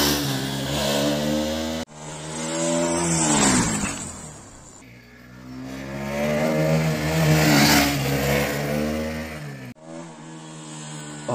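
Motorcycle engine revving hard, then dropping into engine braking on a downhill lean through a curve; loud, close, rising and falling in pitch with gear changes and throttle blips.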